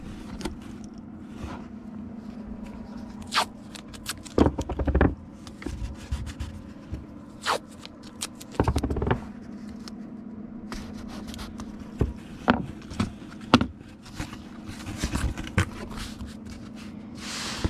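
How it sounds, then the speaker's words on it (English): Packing tape pulled and pressed onto a package, heard as several short ripping and scraping bursts over a steady low hum, fairly close. "Let's get it taped in here."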